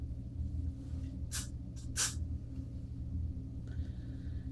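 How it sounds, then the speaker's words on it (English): Two quick hissing bursts of hairspray from an aerosol can, close by, against a low steady background hum. "I'm used to spraying hairspray to my eyeballs"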